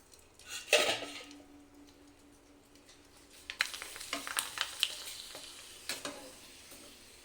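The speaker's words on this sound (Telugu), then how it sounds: "ఇలాగే ఒక్కొక్కటిగా ఎన్ని కావాలంటే అన్ని డీప్ ఫ్రై చేసుకోవచ్చు." Semolina vadiyalu deep frying in hot oil, with a bright burst of sizzling as a piece drops in, then scattered clinks and scraping of a utensil against the pan amid steady frying crackle, no talking.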